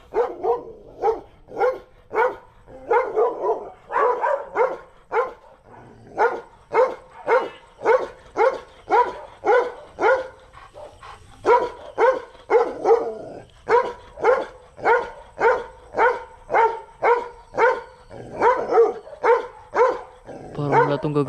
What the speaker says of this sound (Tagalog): Punta ka ng aso.